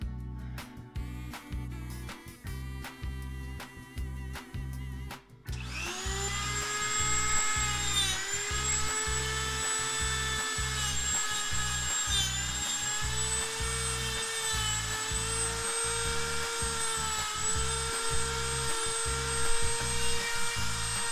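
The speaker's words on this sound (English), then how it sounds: "So I move over to using some sanding brushes," A rotary tool fitted with sanding brushes whines at a high, steady pitch as it sands charred wood on a lathe-turned piece. A rhythmic thumping runs underneath, and no one speaks.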